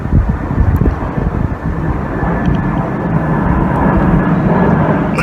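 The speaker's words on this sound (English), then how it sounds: "Bit of a chilly wind at the moment." Strong outdoor wind buffets the microphone in a continuous low roar that rises and falls over several seconds, with a faint flapping underneath and no speech.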